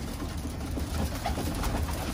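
Imported racing pigeons in a loft give soft, low, repeated coos over a dense, steady murmur of birds close by.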